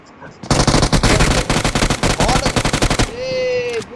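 Automatic gunfire in the mobile battle royale game BGMI, a loud close burst of rapid shots for about two and a half seconds, ending in a ringing reload-like tone.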